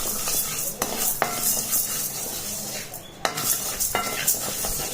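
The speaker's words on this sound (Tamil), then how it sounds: "கொஞ்சம் லைட்டாக வறுத்தா போதும்" Chana dal being lightly roasted in a pan over a low flame, a spoon scraping and stirring with soft clinks against the metal and a faint sizzle, close and steady with a few sharper knocks.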